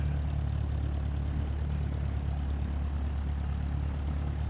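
A light aircraft powers up for takeoff from runway 18 in Microsoft Flight Simulator 2024, its propeller engine a steady, loud, unbroken drone with no voices over it.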